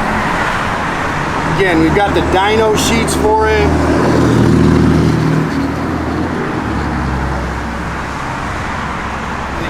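Steady road and engine noise inside a moving 1992 Ford Mustang LX fills the cabin throughout, easing off somewhat near the end, while someone talks over it.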